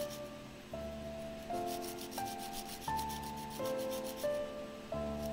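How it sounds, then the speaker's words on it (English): Sandpaper scrubbing coal off a blackened soldering iron tip, in repeated rubbing strokes about every second, close and fairly quiet, with no talking. "So if I sand it for a while, that coal will come off."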